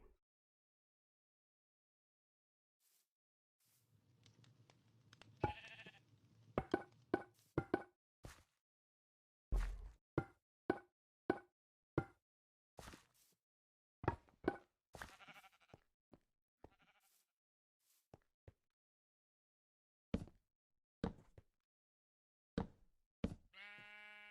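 Sheep bleat in a Minecraft-style build alongside sharp knocking and block-placing clicks, with scattered short sounds separated by silences and no voices.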